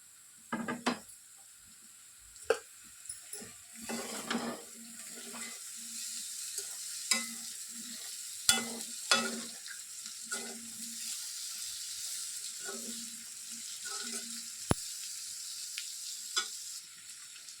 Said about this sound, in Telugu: ఈ మట్టికాయలను వేసేసుకుంటున్నాను.